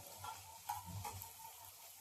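Onions frying in a pan for Indo-Chinese chili chicken, a faint, steady sizzle with a few soft stirring scrapes over two seconds, no voices.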